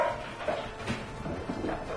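A dog barks and whimpers upstairs, heard from a basement through a thin floor, muffled and faint, in a few short, scattered yips.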